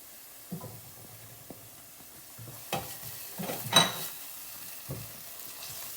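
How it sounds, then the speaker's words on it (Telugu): Spice paste of cinnamon and two other ground ingredients frying in a pan, with soft stirring scrapes and intermittent sizzling bursts, fairly quiet and close, no talking. "దీనిని ఇప్పుడు ఇందులో వేసేసి ఫ్రై చేసేసుకుంటాను"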